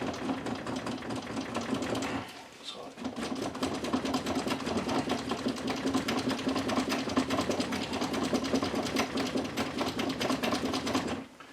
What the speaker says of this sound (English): Sorry about the noise of this easel.